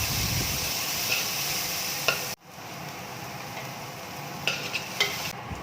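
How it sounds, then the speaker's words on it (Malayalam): Onions for groundnut curry sauté in a pan with a loud, steady sizzle, broken by a sudden dip, then resume hissing with occasional stirring clinks and scrapes. "അതെല്ലാം നന്നായിട്ട് വഴറ്റി ബ്രൗൺ നിറമാവുന്നവരെ ഒന്ന് വഴറ്റി കൊടുക്കാം"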